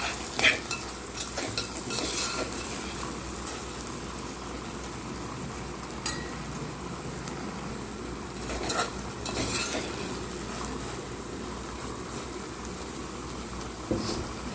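Tomatoes and onions sauté quietly in a pan while a spoon mashes and stirs them, giving soft scrapes and occasional sharp clinks over a low sizzle, with no talking.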